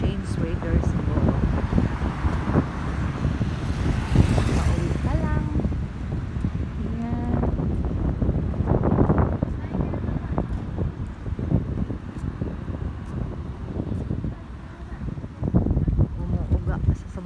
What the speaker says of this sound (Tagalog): Umuuga sa sobrang lakas ng hangin.